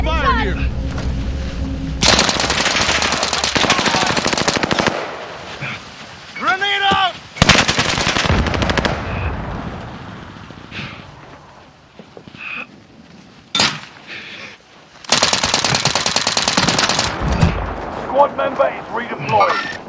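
Long bursts of rapid machine gun fire in the Call of Duty: Warzone video game, loud and close, alternating with quieter gaps of distant shots and battlefield noise, with voices talking in between.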